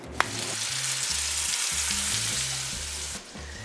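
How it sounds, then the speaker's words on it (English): A meat patty sizzling on a hot cast iron skillet gives a steady, loud, close frying hiss throughout, with a brief sharp tap near the start and quiet background music underneath. "you just begin to start making it into a small little patty that we're gonna put on the cast iron skillet"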